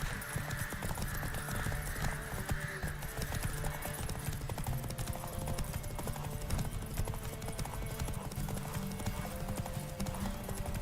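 Geralt's horse in The Witcher 3 video game trots along, a steady rhythmic clip-clop of hooves at moderate level, with faint game ambience beneath.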